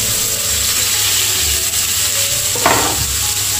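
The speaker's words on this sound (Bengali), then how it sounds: "পেঁয়াজটা একটু লাল করে ভেজে নেব।" Chopped onion fries in a pan of hot oil with cracked cardamom, giving a steady loud sizzle alongside a constant low mechanical hum and a brief scraping stir near the end.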